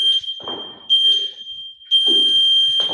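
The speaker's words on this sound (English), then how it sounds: "You're going to hear another beep from our end, and that signifies 20 minutes gone." A shrill electronic tone sounds in three bursts about a second apart, piercing and close, with some muffled background noise between beeps.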